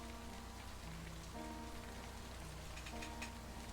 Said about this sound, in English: Just like this very moment, standing here in the rain.